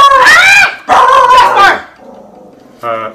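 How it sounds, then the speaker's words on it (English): A pet dog barks in a home kitchen, with two loud close bursts of barking followed by a quieter growl and one more short yip. "He barks at everything."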